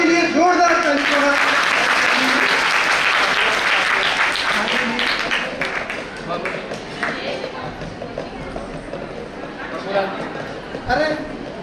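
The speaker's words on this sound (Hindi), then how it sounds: "एक बार सबके लिए जोरदार ताली" An audience breaks into loud, dense applause that stays full for several seconds and then thins out into scattered claps and murmuring voices.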